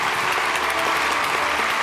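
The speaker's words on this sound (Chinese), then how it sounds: "掌声欢迎" A studio audience applauds to welcome guests onto a Chinese health program stage, dense, even clapping that stays loud and steady throughout with no one speaking.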